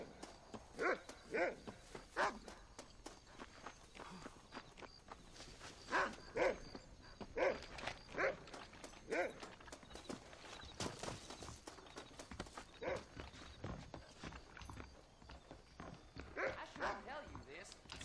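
A dog in the video game Red Dead Redemption barks repeatedly at mid distance over clip-clopping horse hooves and game sounds, while people talk across much of the scene.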